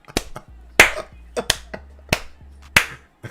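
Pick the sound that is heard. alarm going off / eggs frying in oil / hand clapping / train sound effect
hand clapping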